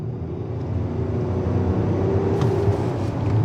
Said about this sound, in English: Let's get on the throttle and see how it does.